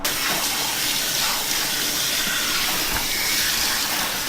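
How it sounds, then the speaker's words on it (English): Steady running water rinsing keratin treatment out of hair at a salon sink, a loud, continuous spray and splash without pauses or voices. "you have to rinse completely all the keratin out"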